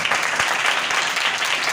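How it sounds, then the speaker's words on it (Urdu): Church congregation at a Thursday night prayer meeting clapping loudly, a dense, continuous burst of many hands applauding together at close range. "آئے زوردار تالی بجائیں خدا کا کلام، زوردار تالی۔"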